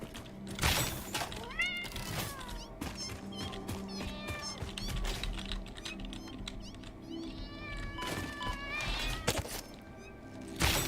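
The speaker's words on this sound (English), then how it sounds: "I don't have to fight the cat." Cat creature in the Satisfactory video game meowing repeatedly in rising and falling wails over a busy game soundscape with clicks and thumps, fairly close and loud.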